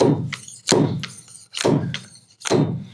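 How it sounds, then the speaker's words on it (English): A hammer drives a fork seal driver onto a Suzuki DR650 motorcycle fork in four evenly spaced, sharp metallic thunks about every three-quarters of a second, close and solid, with no talking. "Pretty much have to have fork seal drivers in order to do this. They go on like this, and then I'm gonna keep hitting till"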